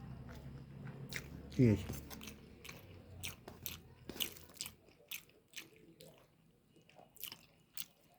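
Someone eating hot rice with greens and curry, a series of soft wet chewing and biting sounds close to the mouth, irregular and fairly quiet, with a brief spoken remark in between.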